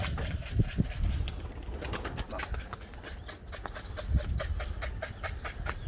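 Birds kept by Hasan dayı, which lost their tails, call and stir close by in a steady scatter of coos and sharp flutters, with a faint voice now and then.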